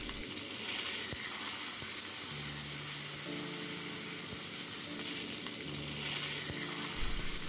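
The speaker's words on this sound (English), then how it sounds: "Then add 1 finely chopped medium sized tomato. Cook until the tomato becomes soft." Chopped tomato cooks in a pan for a bottle gourd and prawn curry, giving a steady close sizzle with occasional stirring clatter and a low humming tone in the background, with no voices.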